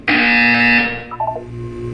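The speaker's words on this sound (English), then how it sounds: "You will hear a buzzer." Loud electronic buzzer in a Portal 2 game test chamber, a single steady harmonic tone of about one second that cuts off and leaves a low ambient hum.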